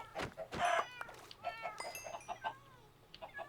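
Chickens cluck repeatedly in the Minecraft video game, a run of short, close clucks and squawks heard alone with no talk over them.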